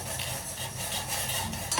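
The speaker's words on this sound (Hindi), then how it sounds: "तो इस अदरक को मैं डाल रही हूँ जो पानी उबल रहा है हमारे उसमें।" Crushed ginger dropped into a pot of boiling water for tea in a home kitchen, a soft steady bubbling and sizzling hiss with faint stirring clinks throughout, quiet and close, with no talking.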